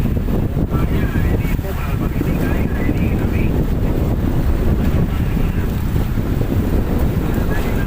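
Waves slam against a small fishing boat out at sea in strong weather, a constant roar of wind buffeting and water churning against the hull, loud and close throughout.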